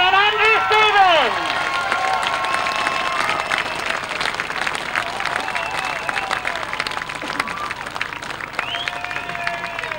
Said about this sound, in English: let's get them up here and receive your applause